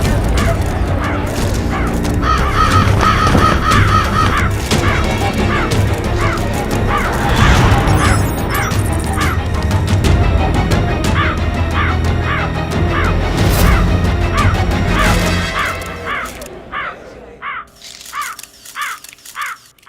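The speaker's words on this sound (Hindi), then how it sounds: "सैकड़ों चील कौवे मंडरा रहे हैं शहर के आसमान पर" Hundreds of kites and crows circle above a city, their harsh caws and calls layered into a dense, loud chorus with repeated rhythmic cries that thin out and grow sparser near the end.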